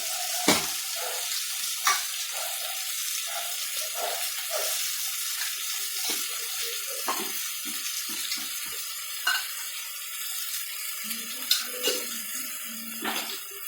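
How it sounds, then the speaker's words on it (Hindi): A spoon stirs a spiced mixture of salt, turmeric, red chilli powder and coriander powder in a cooking pan, with irregular scraping strokes over a soft background sizzle and no talking. "तो मसाले डालने के बाद इसे थोड़ी सी मैं चला लूँगी"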